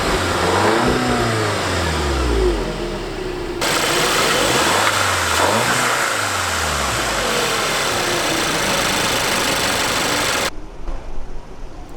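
A 2017 Volkswagen Golf R's 292-horsepower turbocharged inline-four revs up hard several times, loud and close, with rising and falling engine pitch sweeps before settling back toward idle.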